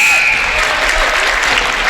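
Crowd applauding a made free throw at a high school basketball game in a packed gym, a loud, dense burst of clapping and cheering that fills the whole short moment.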